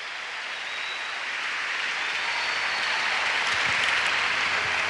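A church congregation applauding together, a steady, dense wash of clapping that swells slightly and carries on alone without talk.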